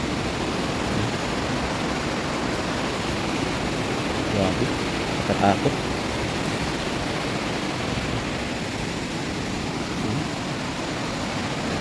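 A river swollen after a typhoon rushes with a constant, loud broadband roar of flowing water, while a person briefly speaks over it.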